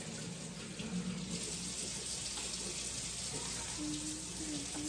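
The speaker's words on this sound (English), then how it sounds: "when you rinse it off, it doesn't look like it's stained" Running tap water pours steadily over etched plastic being rinsed under a faucet, a constant moderate splashing flow with no breaks.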